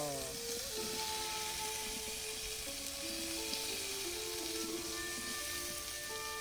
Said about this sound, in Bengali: বেগুনটা ঢেলে দিলাম, বেগুন আলু